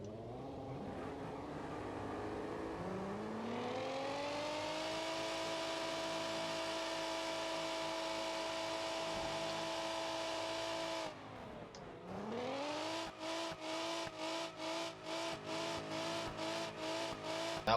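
Sustained, loud engine roar of a car doing burnouts in BeamNG.drive, revs climbing and holding steady, then a brief dip before rapid rhythmic rev pulses near the end; no talk.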